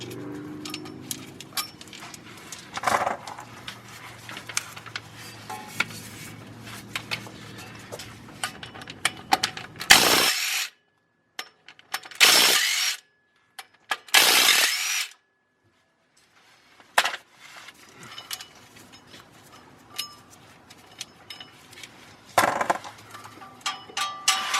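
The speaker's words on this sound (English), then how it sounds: "taking our flywheel bolts out now." Power tools remove the flywheel bolts from a Nissan Silvia during a clutch job. Loud bursts of tool noise are broken by short silent gaps and scattered clanks, close up, with no talking.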